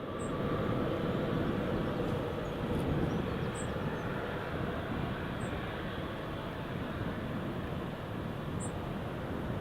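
A TUI airliner rolls down the runway at Newcastle International Airport, a faint, distant, steady rumble with a broad roar and no sharp events, heard from outdoors with occasional small chirps high above.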